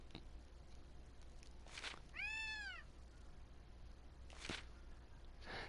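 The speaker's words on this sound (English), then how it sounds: "Meow." A cat in the video game Gravity Rush gives a single clear, drawn-out meow in the middle, set between soft footstep-like taps and quiet background ambience.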